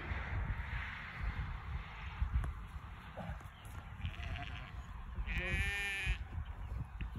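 Newborn lambs and sheep bleat on a farm during lambing, with a few short bleats and one clear wavering cry near the end, all over wind and outdoor rumble.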